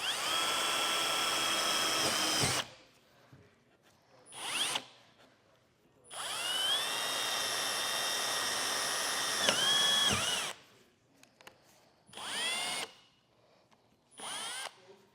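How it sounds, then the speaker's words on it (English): A power drill with a drill stop whines in several bursts, drilling holes in fiberglass, long runs followed by shorter ones, with quiet pauses between; close and fairly loud. "you're gonna use that drill stop to drill all your holes"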